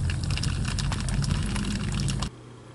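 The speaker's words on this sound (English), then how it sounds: "I can hear the water going up in there." Water rushing and filling inside a 5th wheel travel trailer's black water tank with a blockage, a steady close gurgling pour that stops abruptly near the end.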